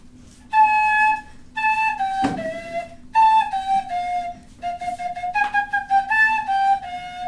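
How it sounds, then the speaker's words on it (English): Breathy whistle-like tones from a flute head joint blown alone, a series of short pitched notes with a few sliding pitches, close and fairly loud. "So once I do that on the head joint, it sounds like this."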